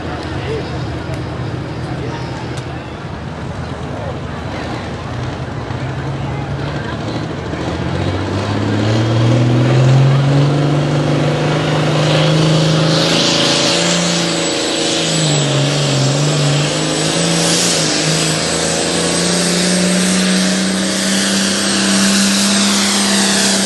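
A pulling tractor engine roars through a tractor pull run at a Langford, New York event, a loud sustained drone whose pitch climbs and wavers as the run goes on, with an announcer talking over it.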